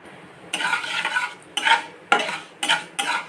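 Mango chutney frying in white oil with salt, turmeric and sugar: close, loud scraping stirs come in four distinct bursts over a light sizzle, with a metal spoon rasping against the pan.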